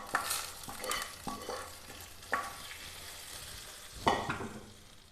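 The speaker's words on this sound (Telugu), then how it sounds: "ఈ పోపుని మనకి రెడీ అయిపోయిన రసంలోకి వేసేసుకుందాం" Hot tempering poured into beetroot rasam gives a low sizzle, punctuated by several scraping stirs and knocks of a pan, fairly quiet with no talk.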